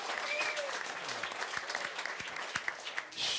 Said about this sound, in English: a big round of applause for Labour MP Louisa Wall